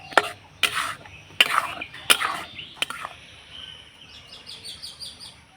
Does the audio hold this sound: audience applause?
no